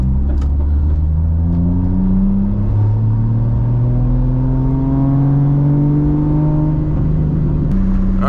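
Big-turbo, straight-piped MKIV Toyota Supra cruising, its loud droning exhaust note climbing steadily through the gears in long rising sweeps, with a brief shift near the end and no talk.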